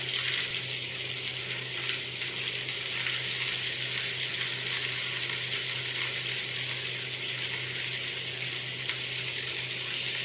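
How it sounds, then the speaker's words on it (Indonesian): Butter and spices sizzle steadily in a hot pan over low heat while cooking steak, a continuous close frying hiss with no pauses and no voices. "Kemudian kita masukkan juga butternya."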